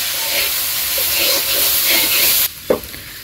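Fish and onion charchari being stirred in a hot pan in a village kitchen, a steady sizzling fry with scraping stir strokes that cuts off abruptly near the end, followed by a brief clatter.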